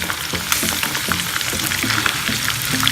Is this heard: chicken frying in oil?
yes